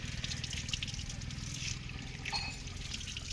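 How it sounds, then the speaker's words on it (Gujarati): Water runs from a tap into bottles as a steady, soft trickle close by. A low background hum sits under it, and no one talks. "પાણીના બોટલ ભરાઈ જશે"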